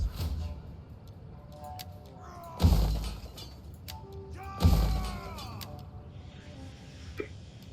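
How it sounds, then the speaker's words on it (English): Two sharp hiccup-like bursts about two seconds apart, moderately loud over quiet background noise during a Pergamon siege-of-Rome strategy game session. "Oh no, I've got the hiccups."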